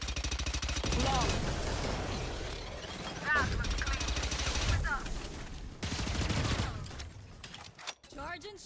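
Rapid bursts of gunfire from a video game firefight, automatic weapons rattling in dense volleys with occasional sharper single shots, loud and close, with voices talking over the shooting at times.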